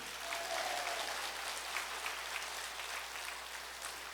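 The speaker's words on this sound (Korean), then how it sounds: "박수 한번 치세요." A congregation applauds during a healing retreat lecture in a retreat house, a faint, distant, sustained patter of many hands clapping over a low hum with no talk.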